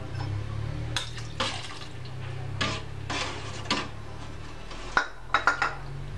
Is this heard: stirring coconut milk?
yes